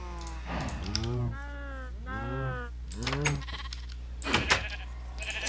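Sheep in the Minecraft video game bleat three or four times in a row, each a wavering, nasal baa. Quieter clicks and a short clattering burst follow near the end.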